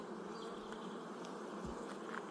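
Honeybees from a strong hive buzz steadily and densely at close range while the hive stands open during an inspection, a continuous hum with no voices.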